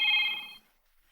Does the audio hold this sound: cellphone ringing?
yes